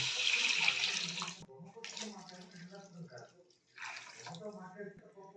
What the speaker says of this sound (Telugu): ఇప్పుడు 3 లీటర్లు నీళ్ళు పోసుకున్నాము